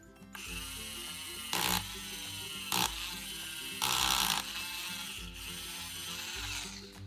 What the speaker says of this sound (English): Now let's drill.